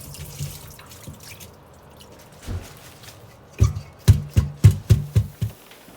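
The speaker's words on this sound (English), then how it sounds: "Drain the water off." Water splashes and drips in a sink, quiet at first, then a burst of several quick sloshing pours as water drains off washed escarole, close and fairly loud.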